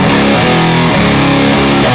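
Distorted electric guitar plays a riff in a guitar lesson, a loud, continuous run of thick overdriven notes with no voice over it.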